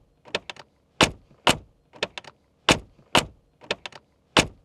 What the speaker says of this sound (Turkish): Hatta G kapı sesi diye bir terim vardır bilirsiniz değil mi?